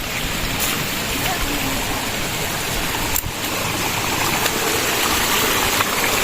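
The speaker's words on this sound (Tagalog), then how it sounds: "Nice, something like a falls over there." A waterfall in a nature setting gives a continuous broadband rushing roar of falling water, steady and moderately loud, with a few brief knocks over it.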